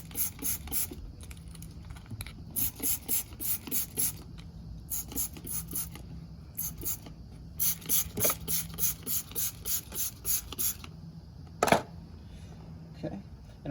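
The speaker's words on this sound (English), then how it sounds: "going ahead and spraying everything with Simple Green" A trigger spray bottle of Simple Green cleaner misting nitro RC car parts outdoors on a hill, giving bursts of rapid, rhythmic sharp spritzes close up, with pauses between the bursts.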